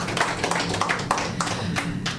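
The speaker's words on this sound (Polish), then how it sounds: "bardzo bym prosiła o brawa dla dobrego" Live podcast audience applause, a scattered run of quick claps and taps of moderate loudness, some near and some farther off, keeping up steadily without any voices.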